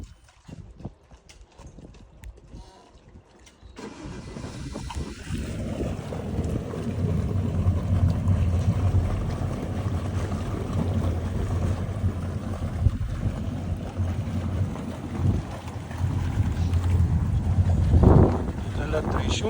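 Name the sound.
boat engines warming up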